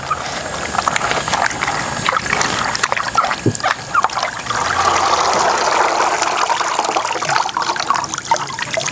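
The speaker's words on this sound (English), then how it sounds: "that should be the last rinse right here." Salted cabbage for kimchi is swished and rinsed in a basin of water, splashing and sloshing steadily, with a trickling, running quality throughout and no talking.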